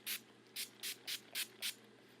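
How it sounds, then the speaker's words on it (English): Six quick bursts of NYX Dewy Finish Long Lasting Setting Spray hiss in a steady rhythm, close and fairly soft. "use my NYX Dewy Finish Long Lasting Setting Spray, and I'm just going to spray this all over"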